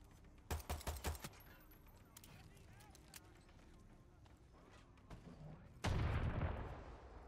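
Gunfire in Far Cry 6: a quick burst of several sharp shots, scattered single pops, then a loud heavy blast that rumbles and slowly fades, with no voices.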